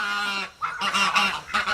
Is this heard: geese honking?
yes